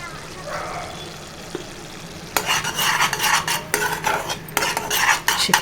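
Tamarind pulp cooking with turmeric and oil for an amla pickle, stirred with a spoon: a soft simmering bubble, then repeated scraping and clinking strokes against the pan, with a voice speaking over it.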